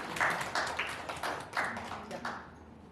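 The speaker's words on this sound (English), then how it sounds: "Can we have another round of applause" A small audience at an academic conference breakout session gives a short round of light, scattered applause, fairly quiet and sparse, fading out near the end.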